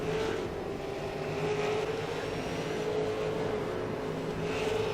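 A Twin Ring OSR V8 race car engine drones loudly and steadily from close range during braking into a corner, with a constant high-pitched whine and no talking.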